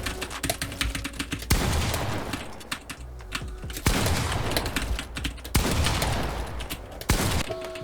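Gunfire in the video game Fortnite, repeated loud bursts of rapid shots with short pauses between volleys, mixed with faint keyboard clicks.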